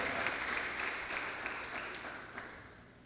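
A church congregation applauding, a soft, steady spatter of clapping heard from across the room that gradually tapers off.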